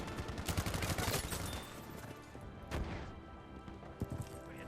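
An M1928A1 Thompson submachine gun fires in Battlefield 5, a rapid loud burst of automatic shots at the start, followed by a few more scattered shots and impacts amid battlefield din.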